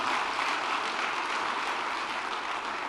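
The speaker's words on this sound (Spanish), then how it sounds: "Dale aplauso al Señor." Congregation applauding in a church service, a dense even wash of clapping that holds steady and fairly loud for the whole stretch.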